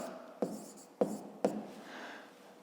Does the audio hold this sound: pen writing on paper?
yes